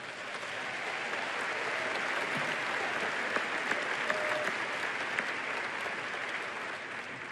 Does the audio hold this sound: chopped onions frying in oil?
no